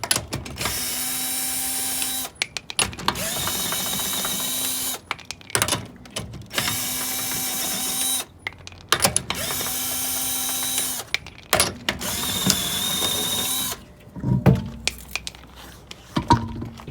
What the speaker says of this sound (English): Remove the lug nuts and wheels at each position.